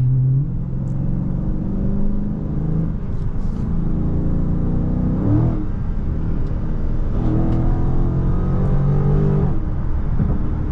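A Dodge Challenger Scat Pack widebody on 315 tires in track mode accelerates hard. The engine note climbs in loud, rumbling pulls, drops briefly at each gear change, then rises again, heard steadily close throughout.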